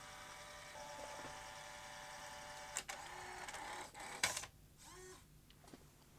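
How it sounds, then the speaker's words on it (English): A Sony BE-V8 8mm tape rewinder and eraser runs with a faint mechanical whir and a slight grinding graunch from its gears, quiet and close, with a few sharp clicks and clunks near the end. "Just a slight graunch to the gears"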